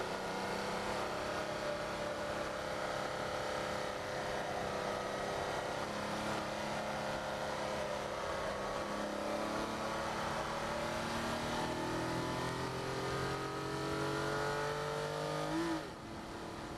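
A Nissan 370Z driven flat out around a race track, its engine note climbing steadily in a long sustained pull with rising harmonics, loud and close from inside the car, then a brief dip near the end, with no talk.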